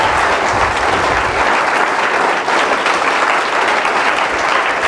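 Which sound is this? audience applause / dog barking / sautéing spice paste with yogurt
audience applause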